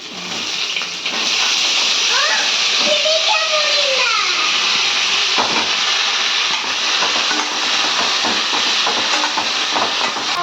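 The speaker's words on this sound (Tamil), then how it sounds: "எண்ணெய் காஞ்சிருச்சுங்க. எல்லாத்தையும் போட்டு வதக்கிக்கலாம்." Chopped vegetables sauté in hot oil for a paneer gravy, giving a loud, steady hiss that runs the whole time, with a brief faint voice-like sound in the background early on.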